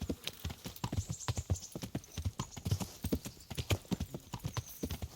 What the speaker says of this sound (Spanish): Y tengo hasta mi caballo.